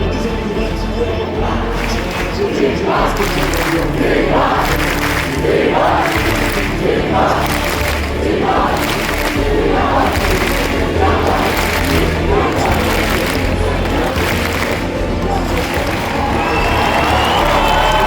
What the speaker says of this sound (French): il est chaudement applaudi, on l'entend